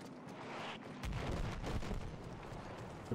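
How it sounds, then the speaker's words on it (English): Bombing in a World War I combat video game, a quiet low rumbling barrage of distant explosions with a heavier boom swelling after the first second, no speech. "They're bombing the place, I don't like this."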